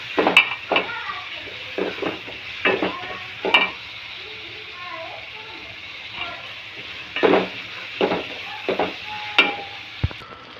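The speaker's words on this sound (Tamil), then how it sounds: "கொஞ்சம் முழு ஜீரகம், கொஞ்சம் முழு வெந்தயம், தக்காளி, பச்சை மிளகாய், உள்ளி போட்டு முதல்ல வதக்கணும்." Cumin, fenugreek, tomato, green chili and garlic sauté in a pan, with steady soft sizzling under repeated stirring scrapes and taps of a spoon that sound close and moderately loud.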